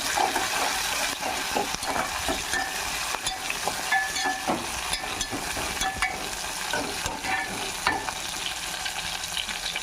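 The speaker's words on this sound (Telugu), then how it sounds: "ఉల్లిపాయ ముక్కలు కూడా కొంచెం మగ్గనిద్దాం. ఇంకా ఇవి కొంచెం మగ్గినాయి కదా, అంతలోకి టమాటా ముక్కలు వేసేసుకుందాం." Onion and tomato pieces sauté in a pan with a constant busy sizzle, while frequent spoon scrapes and stirs sound close by and no one speaks.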